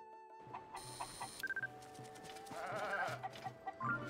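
Goat bleating in the Zelda: Tears of the Kingdom video game, short nasal calls repeated a few times over a busy backdrop of game music and other farm-animal sounds, with no talking.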